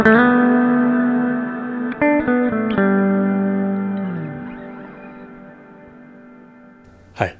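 A guitar chord rings through a BOSS RV-6 reverb pedal with its time knob turned up. A few quick strums are followed by a long, smooth reverb tail that slowly fades over several seconds before a brief final pluck.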